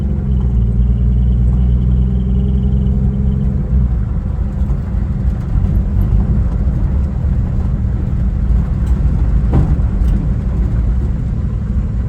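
A 1956 Chevrolet 210 cruises along the road, its engine rumbling steadily and close with a low, continuous drone and road noise, with no talk over it.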